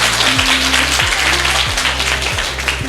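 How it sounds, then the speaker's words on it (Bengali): Loud, dense applause at a girls' high school quiz programme after a correct answer, a continuous wash of many hands clapping at once with a low humming tone running beneath. "এই সঠিক উত্তরটির জন্য একটি জোরে করতালি আমরা আশা করছি"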